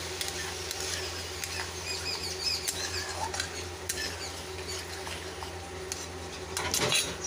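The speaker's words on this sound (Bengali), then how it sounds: "মশলাটা কষানো হচ্ছে" Spices sautéing with turmeric and curd water in a pan, quiet clinks and scrapes of a spoon against metal over a faint crackle, with a louder scrape near the end, close and unaccompanied by talk.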